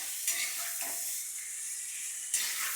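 Ridge gourd peel sautéing in a pan gives a steady, close sizzle with stirring scrapes, fading briefly near the end before the frying hiss returns.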